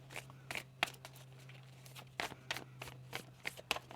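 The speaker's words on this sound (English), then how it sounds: "One more shuffle." Tarot cards being shuffled in quick, soft riffling bursts, several separate shuffles with short pauses between them over a faint steady hum, no voices.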